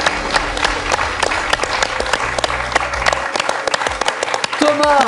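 Applause on the French quiz show Questions pour un champion after a correct answer: dense, crisp clapping from the studio audience that runs steadily throughout, fairly close and loud, with a brief tonal sound rising near the end.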